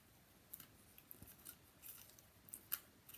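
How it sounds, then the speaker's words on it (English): Quiet, close snips as scissors trim excess plastic off a handmade slider card, a few soft irregular cuts over faint background hiss. "Now I'm just going to cut off the extra plastic."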